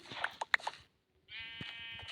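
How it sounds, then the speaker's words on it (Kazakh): Minecraft livestock, sheep-like, bleat in the video game: a few short, faint calls, then a longer sustained bleat after a brief silence. "Малдар жылауы."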